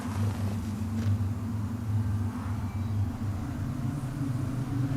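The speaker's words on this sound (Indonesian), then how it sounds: "Itu badai." Low rumbling storm noise in an old-time desert setting, a steady deep roar with broadband wind-like hiss that holds throughout at fairly even loudness, with no voices.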